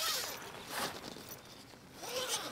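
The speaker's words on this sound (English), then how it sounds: "Two-way zips we can get right open." A two-way zip on a Belgian Army M1999 camo dome tent being pulled open, with two or three quick ratcheting zip strokes, close and fairly clear.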